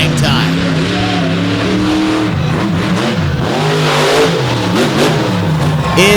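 A monster truck engine revs loud and close at a 2023 Overdrive show in Illinois, its roar rising and falling under a commentator's continuous talk.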